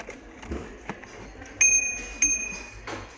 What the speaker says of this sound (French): Petite sonnette pour les vélos.